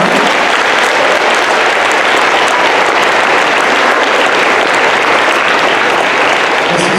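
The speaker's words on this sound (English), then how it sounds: "a round of applause for our two students, Aaron Palupo and Olivia DeLay," A school assembly applauds two students at a dedication ceremony for a MIA/POW table, with loud, dense, steady clapping from a large crowd filling the whole stretch without a break.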